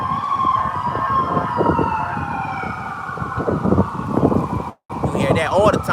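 An emergency vehicle siren sounds at steady volume with a long, slowly gliding wail under a rumbling, voice-like background, then breaks into a faster warble near the end after a brief dropout.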